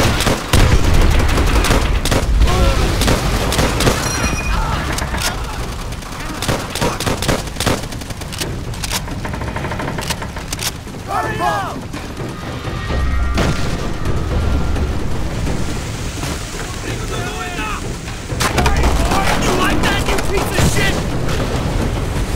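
Loud, dense machine gun fire and other gunshots sound in a World War II battle in the video game Call of Duty: World at War, with bursts and booms running continuously under occasional shouted voices.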